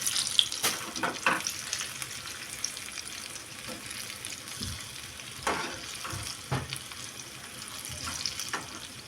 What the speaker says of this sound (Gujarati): એકદમ ધીમા તાપે તળાવવા દેવાની છે